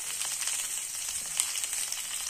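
Ginger and cumin seeds roasting in hot oil in a pan for a ring samosa filling: a soft, continuous hiss of sizzling, close and steady, with no speech.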